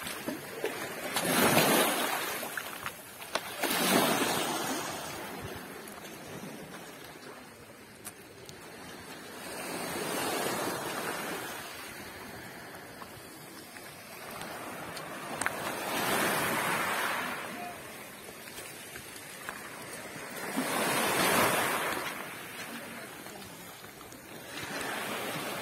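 Sea waves washing past a boat moving along the sea, swelling and fading in slow surges every few seconds, with steady wind noise and no voices.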